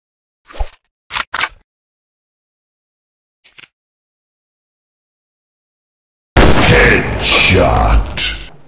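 Sniper rifle fire in an army shooting game: a few short, sharp cracks spaced apart, then a long, loud burst of dense, crashing noise near the end.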